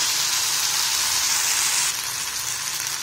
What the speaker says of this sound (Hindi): अब हम इसमें डालेंगे जिंजर गार्लिक पेस्ट, अदरक लहसुन पेस्ट, इसे थोड़ा फ्राई करेंगे